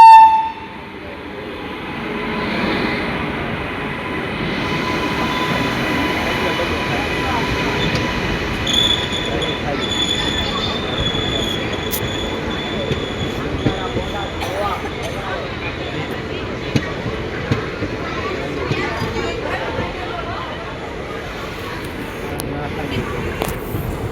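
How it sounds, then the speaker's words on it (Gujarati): A train pulls into a station platform, its rumble and rolling wheels building steadily with brief squeals and a horn, while people talk nearby. "આગળ ટ્રેન આવે છે તો નીકળી જઈએ આપણે"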